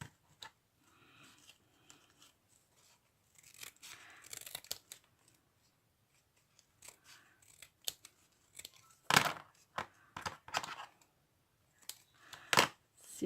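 Scissors cutting through a card, with scattered snips and crisp paper rustles, then louder, sharper cuts toward the end, close by with no talking.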